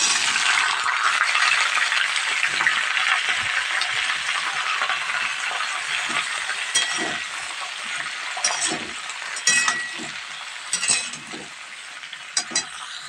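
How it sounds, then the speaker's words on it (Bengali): Pieces of katla fish frying in a pan of oil: a loud, continuous close-up sizzle and hiss, with intermittent utensil clinks and scrapes toward the end, no talking. "আর এইদিকে চলছে মাছ ভাজা।"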